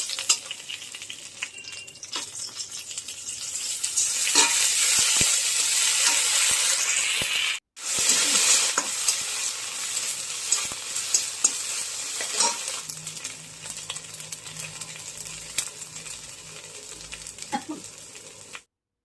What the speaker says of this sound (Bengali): বেশ লাল লাল করে ভেজে নিচ্ছি